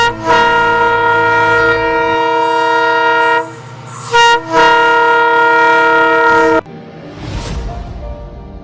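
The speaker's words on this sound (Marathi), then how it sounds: "ट्रेन अजून पण येतच आहे" A train approaches with long, loud blasts of its horn, a sustained tonal honk holding for several seconds, breaking briefly, then sounding again before giving way to rumbling wheels and rail noise.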